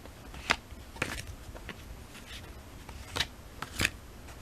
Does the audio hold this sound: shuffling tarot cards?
yes